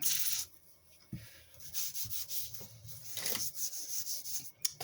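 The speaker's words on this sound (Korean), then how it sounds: "그냥 저는 요거 또 기름칠해서 또 이쁘게 색깔만 내는 거죠." A hand rubs oil into the wooden stock of a 1944 Mosin Nagant M44 rifle, making soft, close, irregular scrubbing strokes that pause and resume over several seconds.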